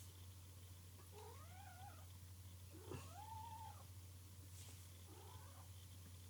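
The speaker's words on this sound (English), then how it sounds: "my cat wants to say hello." A house cat meows three times, drawn-out rising and falling calls spaced a couple of seconds apart, fairly close and soft over a constant low electrical hum in a quiet room.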